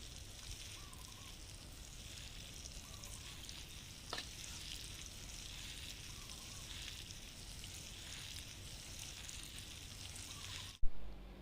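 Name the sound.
watering seeded soil with water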